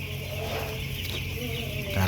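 Chickens cluck in a coop shed, soft repeated clucks over a steady background hum, with a brief voice-like sound at the end.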